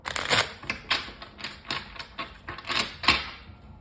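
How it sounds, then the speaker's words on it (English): Deck of tarot cards being reshuffled by hand, a close series of crisp riffling and slapping bursts in an uneven rhythm, fairly soft, with no talk over it. "I need to reshuffle"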